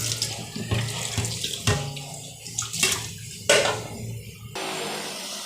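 A plate being washed under a running kitchen tap, with steady water flow broken by splashes and shifting gurgles as the plate moves through the stream, close and moderately quiet.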